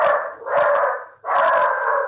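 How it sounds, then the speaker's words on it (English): A dog barks and howls loudly in two long drawn-out bursts, picked up close by a microphone during an online video call for a writers' reading. "There's That's several- my dog, sorry."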